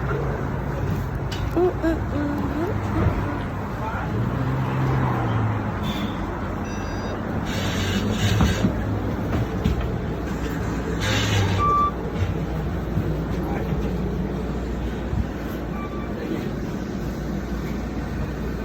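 Steady low rumble of a bus engine and street traffic, with intermittent electronic beeps and muffled voices talking nearby.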